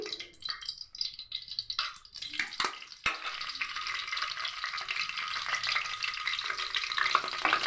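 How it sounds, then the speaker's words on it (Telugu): Onion and curry leaves frying in hot oil for a Godavari prawn gongura curry, a loud steady sizzle that swells after a brief lull near the start, with faint stirring rattles and no talk. "ఆనియన్, కరివేపాకు, వేగాలండి."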